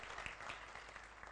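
An audience applauds at a Jain religious discourse gathering: a brief, faint, steady patter of clapping hands from a distance.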